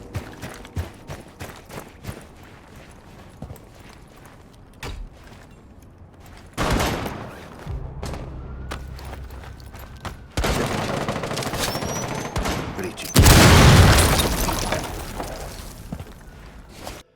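Gunfire and crumbling, smashing destruction from Rainbow Six Siege: dense rapid shots crackle throughout, with heavier blasts near the middle and a loud, close explosion late on, no talking.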